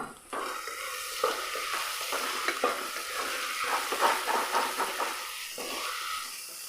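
Onions frying in a pan with a Maggi cube added, stirred with a spoon over a continuous loud sizzle, with scraping strokes rising and falling close by.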